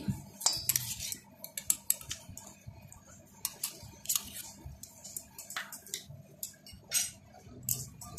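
Tamarind pulp being stirred into aloo kabli in a bowl gives irregular clinks and taps of a spoon against the bowl, with soft squishy mixing sounds between them, close and fairly quiet.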